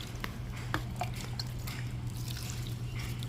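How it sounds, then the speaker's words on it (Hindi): Collected rainwater is poured over freshly filled potting soil in a container for growing spinach, heard as faint, quiet dripping and trickling that continues steadily throughout. "इसके बाद मैं अच्छे से पानी दूंगी।"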